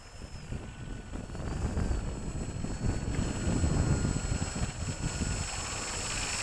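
A small MIA Microflight radio-controlled autogyro flies nearby, its steady motor and propeller drone swelling slightly as it passes, heard outdoors without speech.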